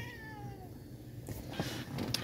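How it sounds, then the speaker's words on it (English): A house cat meows to be let out the door, a close, fairly quiet drawn-out meow at the start followed by faint rustling and movement. "Kitty wants out"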